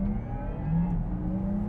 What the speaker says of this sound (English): what Porsche have done very cleverly to add some emotion is added within the sport electric sound an upshift or a down blip sound